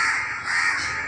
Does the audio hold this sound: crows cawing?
yes